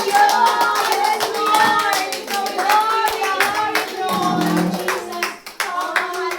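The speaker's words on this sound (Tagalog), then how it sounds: "Palakpak muli sa Panginoon sa ngayon!" A church congregation claps along in steady rhythm with lively worship music and singing, the applause loud and continuous throughout.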